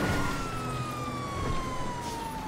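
A wailing police car siren from GTA 5 Online sweeps steadily and loudly throughout, sitting over a constant rumble of engine and traffic noise.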